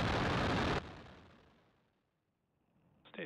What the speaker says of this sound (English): liftoff. Go Falcon, go Starlink.